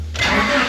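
A Honda Prelude that is failing to start, with its immobilizer key light on, cranks loudly and close up in a sudden steady churning burst.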